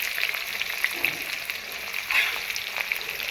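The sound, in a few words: onion frying in a pan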